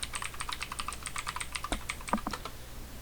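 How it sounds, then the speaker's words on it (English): Rapid clattering keystrokes on a loud, brand-new Redragon computer keyboard, close and dense with irregular rhythm, a few heavier key presses near the end, over a low steady hum. "Sorry for the extremely loud keyboard."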